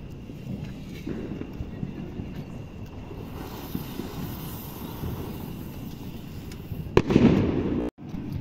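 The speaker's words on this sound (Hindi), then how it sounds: "डायमंड अनार को जला के देखते हैं हमारी डायमंड अनार कैसी चलती है" A Diamond anar fountain firework lit during Diwali cracker testing, giving a steady rushing hiss with crackle, plus a louder burst and a sharp cutoff near the end, with outdoor background noise.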